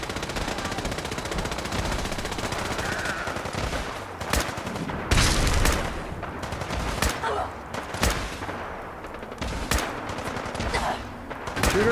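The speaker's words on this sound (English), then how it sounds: "Who's shooting me?" Fallout 4 gunfire comes as rapid automatic bursts and single sharp cracks, loud and close, over busy background game noise.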